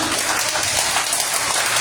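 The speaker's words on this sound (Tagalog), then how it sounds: "Palakpak po tayo lahat." A congregation at a church service applauds together, a dense continuous patter of many hands clapping briefly and evenly throughout.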